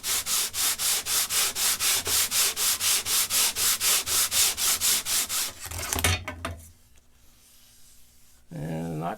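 Wood veneer edges are sanded against a straight edge in a fast, even back-and-forth rhythm of about twenty rasping strokes. The strokes stop abruptly, leaving quieter scraping, then a final burst of rubbing.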